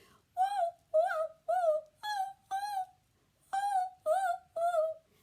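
A voice imitates robin song: eight short, high, sliding warbled phrases in a lively rhythm, with brief pauses and a longer gap midway, close and clear.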